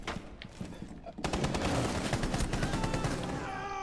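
Gunfire in Rainbow Six Siege: a few scattered shots at first, then dense, sustained rapid fire that grows loud and continues to the end.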